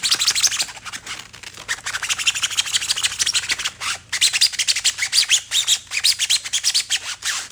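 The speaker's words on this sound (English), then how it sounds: "Just trying to sand down these seams right here for the where the epoxy, where the parts of the body were epoxy" Sandpaper rasping over epoxy seams on a 3D-printed rocket body, close and continuous, with fast back-and-forth strokes and no talking.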